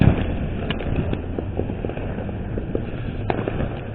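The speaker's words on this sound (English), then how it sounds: "I hear these big concussion explosions and it draws my attention, but I don't see the firework going off." Fireworks going off in residential neighborhoods on the Fourth of July, heard from a distance as scattered muffled pops and a few sharper cracks over steady low rumble and wind.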